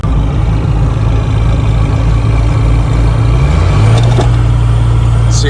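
Ford King Ranch truck with a 5.9L Cummins diesel and turbo running steadily close by, a loud, constant low rumble with the pitch rising slightly as revs climb partway through, no talking.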